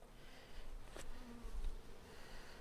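Honeybees buzz around exposed hive comb during a busy inspection after a morning storm, a soft, steady insect drone with one brief nearby pass, faint and without voices.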